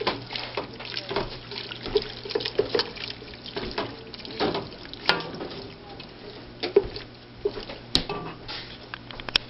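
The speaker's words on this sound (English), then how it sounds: "we'll want to add 1 can of tomatoes. Mix that in and let it cook up" Canned tomatoes stirred into a pot of cooking chili, wet squelching and sloshing with irregular spoon clinks, close and moderately loud.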